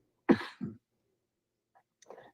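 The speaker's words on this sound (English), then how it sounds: "It's a different kind of cough." A single harsh cough followed by a second shorter one, then a brief pause and a softer rustle or exhale; close and fairly loud, no talking.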